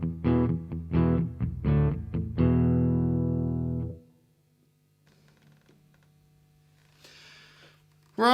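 Electric guitar through a Marshall Astoria valve amp with an EarthQuaker Special Cranker overdrive, playing a quick burst of picked chords and then a held chord that cuts off at about four seconds, leaving a faint low hum and quiet handling noise.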